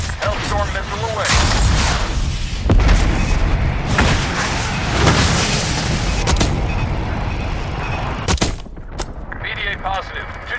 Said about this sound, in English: Hellstorm missile away.